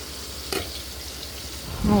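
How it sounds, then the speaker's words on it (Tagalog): Ingredients are stirred into a pot of boiled mung beans (nilagang munggo), giving a soft, steady cooking hiss with one brief utensil scrape, then a fuller rumbling swell near the end. "Ihalo natin dito sa munggo."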